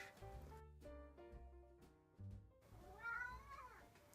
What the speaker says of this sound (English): Sorry, my cat's just come in.